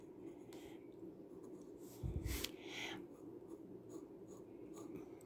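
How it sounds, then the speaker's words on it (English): A glass dip pen scratches across non-watercolor paper in short strokes, a faint, close scratching with a brief louder scrape midway, over a quiet room background. "I had started writing yellow, but I'll go ahead and I'll do that again."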